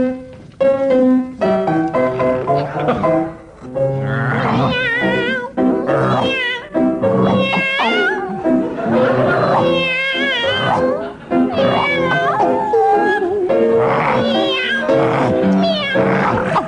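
Two men imitate a dog and a cat while singing a tango song before a live comedy panel audience, loud and continuous with wavering yowls, howls and meows in sustained bursts.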